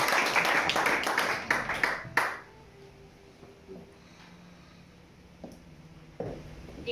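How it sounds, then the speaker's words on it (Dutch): Audience applause for Verna, a loud burst of many hands clapping for about two seconds that then stops, leaving a quiet room with a few faint isolated noises. "Kom ons gee vir Verna haar lekker applaus."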